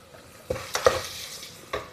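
Eggs go into biryani masala in a pan, giving a soft sizzle with a few light taps and scrapes of a utensil against the pan, close and fairly quiet with no talking.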